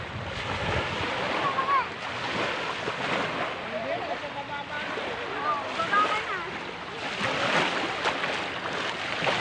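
Ocean surf washes and rolls with gusty wind buffeting the microphone, while people talk and shout faintly in the background.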